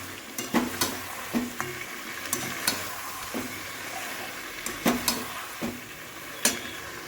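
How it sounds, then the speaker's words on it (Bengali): Spices frying in a pan while being stirred, a continuous sizzle punctuated by a series of irregular scraping clacks of the spoon against the pan, close and clear. "মশলাগুলো দেওয়ার পরে এবার একটু নাড়াচাড়া করে দিই"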